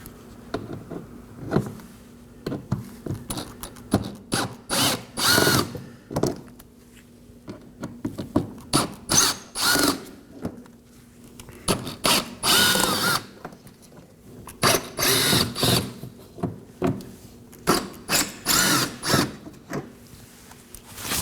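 A power drill spins out five T15 Torx screws from a Chevrolet Equinox wheel well, loud whirring bursts in a stop-start rhythm with short pauses between screws.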